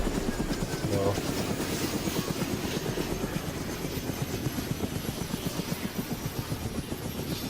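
Helicopter in the video game ArmA 2 DayZ: a loud, steady rotor chop with a rapid, even beat and engine whine that carries through the whole stretch.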